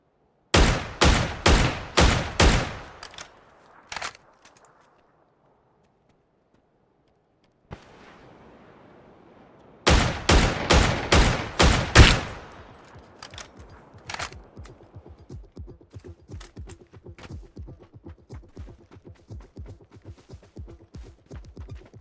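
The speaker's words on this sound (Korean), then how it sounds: "총소리가 두 명밖에 안 들려" Two rapid bursts of loud gunfire crack out in quick succession in the video game PUBG, separated by a pause, followed by a long trail of fainter, steady shots fading into the distance.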